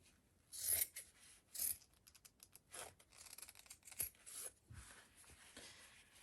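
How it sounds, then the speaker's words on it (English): Scissors snip through folded denim from old jeans, several quiet crisp cuts with soft fabric rasping and rustling between them, close and alone. "And then start cutting all the way down."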